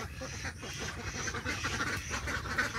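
Ducks quack faintly in the distance, a loose scattering of calls over steady outdoor noise.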